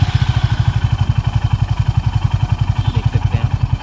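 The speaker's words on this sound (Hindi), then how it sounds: "आप, देख सकते हैं बाइक का एग्जॉस्ट साउंड कितने डीबी तक जा रहा है।" Loud, close motorcycle exhaust from a Suzuki bike idling after starting, a steady low throbbing pulse with an even, rapid beat throughout.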